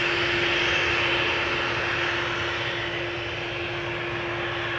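EasyJet airliner departing Amsterdam Schiphol for Manchester, a steady broad jet roar at moderate distance, holding level without breaks and with a constant tonal hum beneath it.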